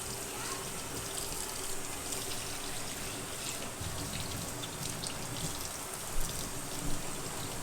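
Tap water runs steadily into a sink while a 3.2-quart cast iron cooker is washed, a constant splashing hiss at moderate volume with a couple of faint clunks near the end.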